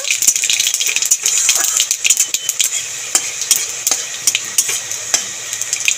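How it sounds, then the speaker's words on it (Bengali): Panch phoron spices fry in hot mustard oil while a metal spoon stirs them in a pan, giving sharp rattling scrapes and clicks over a bright sizzling hiss, close and loud. "তেলের মধ্যে দিয়ে দেবো পাঁচফোড়ন। ফোড়নটা নেড়ে ছেড়ে ভেজে নেব।"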